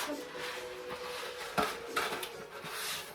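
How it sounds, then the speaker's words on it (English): Dry spaghetti pasta being dropped into a metal cooking pot: scattered light clatters and taps against the pot, with a couple of sharper knocks, close and moderately quiet. "So let's get all the pasta in the pot."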